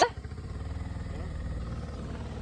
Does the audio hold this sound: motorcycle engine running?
yes